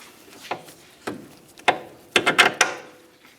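Mounting nut being tightened on the upper sway bar link at the steering knuckle of a 2009-2019 Ford Flex: a string of sharp ratcheting clicks and metallic taps, sparse at first, then a quick cluster of louder bursts near the end.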